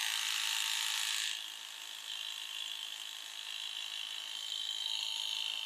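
A small 12-volt car tyre inflator compressor running, a steady high-pitched buzzing hum with a slight drop in level after the first second, continuous and moderately faint with no speech.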